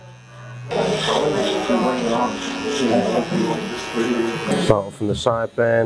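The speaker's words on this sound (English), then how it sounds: "Clippers in along the side bends of the beard line." Electric hair clippers buzz steadily along the side of a man's beard line during a low skin fade haircut, running close under continuous talking from the barber.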